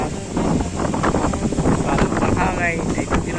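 Strong wind gusting at the Cagsawa Ruins in Daraga, Albay, a loud, continuous roar with buffeting against the microphone and rustling texture throughout.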